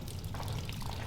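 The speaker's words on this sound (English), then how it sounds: "we've got a lot of water coming through here" Water flowing through an old railway tunnel on the Hull & Barnsley line, a steady broadband rush with a low rumble underneath that holds an even level for the whole second.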